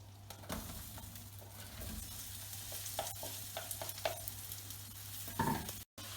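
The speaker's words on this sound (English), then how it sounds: "And then we add in the onions for 10 to 15 minutes." Onions fry in melted butter and sugar in a pan, giving a steady, quiet sizzle broken by occasional stirring scrapes and light clinks.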